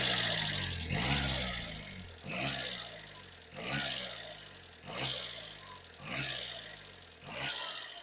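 A car engine revs under throttle with the throttle sensor disconnected, surging and dropping in a repeating pattern about every 1.2 seconds as the fuel is cut, heard close and with no talking.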